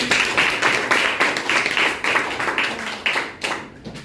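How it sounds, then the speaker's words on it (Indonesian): Students in a classroom clap together in a rhythmic group beat, roughly two claps per second, loud and close, trailing off near the end. "boleh kita berikan tepuk tangan"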